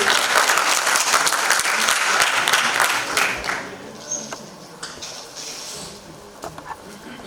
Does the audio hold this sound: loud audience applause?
yes